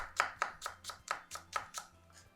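A knife slices vegetables finely for a tomato salad, about nine crisp, evenly spaced cuts against a board, close and quiet with no talking.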